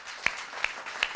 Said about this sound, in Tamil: ஒரு அரங்கு நிறைந்த கைத்தட்டு கொடுங்க